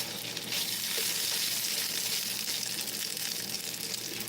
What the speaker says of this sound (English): It sounds like the grease is hot.